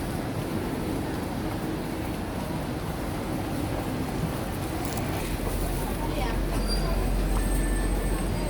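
A train at a Singapore station near Clementi Mall, a steady rumbling roar with brakes or wheels squealing faintly toward the end, heard without clear talk.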